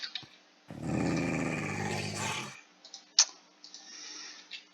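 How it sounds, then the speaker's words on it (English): A wolf growls beneath floorboards in a video game, a low rumbling snarl lasting about two seconds, followed by quieter clicks and faint scraping. "now we're gonna have a growling wolf under the floorboards"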